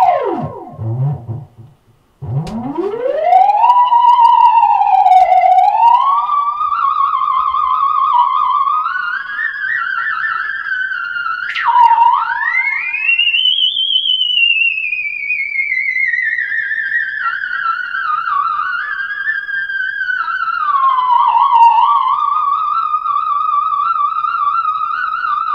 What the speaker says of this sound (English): But I had to buy this Burns Zep Theremin.